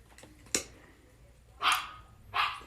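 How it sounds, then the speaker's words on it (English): A dog barks three times: one short sharp bark, then two fuller barks close together near the end, fairly close and clear over a quiet room background. "my dog is barking"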